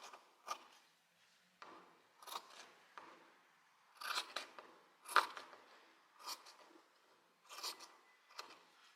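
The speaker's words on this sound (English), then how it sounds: "now I will cut the excess white stuff off." Scissors snip through excess white bedsheet fabric in a quiet room, a series of crisp close cuts in short irregular bursts separated by brief pauses.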